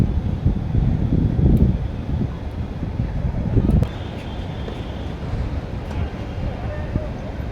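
Gusty wind buffets an outdoor tennis court in Jaipur during a doubles match, a broad roaring rush on the microphone that swells and eases, with muffled voices underneath.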